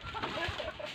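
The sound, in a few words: chicken clucking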